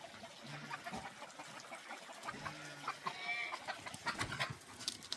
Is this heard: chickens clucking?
yes